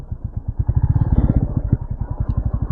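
A motorcycle engine idles and chugs close by near the Tehri Dam, a steady rapid thumping pulse that swells briefly as the throttle opens.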